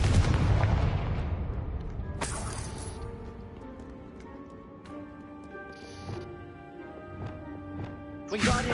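Confringo spell blasts in the video game Hogwarts Legacy: a loud booming burst at the start, then further sharp impacts and ringing magical tones fading through the clip, with another blast at the end.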